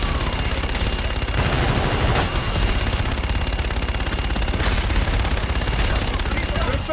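Sustained rapid machine-gun fire during a gun run in the video game Call of Duty Infinite Warfare, loud and relentless with sharp bursts standing out, radio voices faintly mixed beneath.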